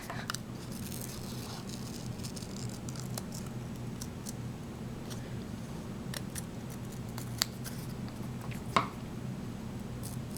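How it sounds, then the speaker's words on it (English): Scissors snip out an embroidered eye from knitted doll fabric, soft quiet cuts scattered over a steady low background hum, with a couple of slightly sharper snips near the end and no talking. "you just cut your eye out"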